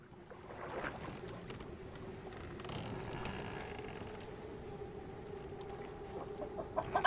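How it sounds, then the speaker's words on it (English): Chickens cluck aboard a sailing ship in the period drama video game Herald, faint intermittent clucks over a low bed of wind and creaking ship ambience. "All day long you could hear the chickens cackle."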